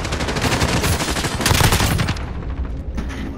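Rapid automatic gunfire from a Call of Duty: Modern Warfare multiplayer match, dense overlapping bursts crackling steadily for about two seconds and then thinning out, loud and close with no talk.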